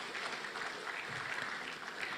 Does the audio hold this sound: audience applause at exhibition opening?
yes